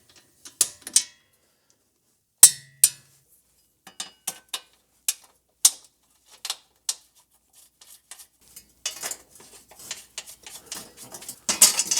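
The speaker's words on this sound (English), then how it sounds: "Going to torque it to 37 foot-pounds with a 14 millimeter." A ratchet wrench with a 14 mm socket torques the front lower control arm pivot bolt on a 2020–2025 Subaru Outback. Sharp, close clicks come one at a time with pauses, then quicken into rapid bursts at the end.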